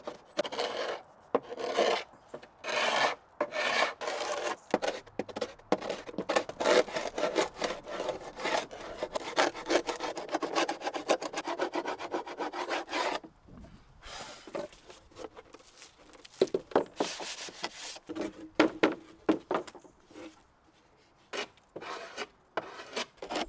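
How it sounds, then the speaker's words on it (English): Old paint being scraped off a 1950s wooden pantry cupboard with a blunt old chisel, a long run of close, rough rasping strokes in irregular bursts with short pauses between them. "Spend ages scraping the paint away using a blunt old chisel"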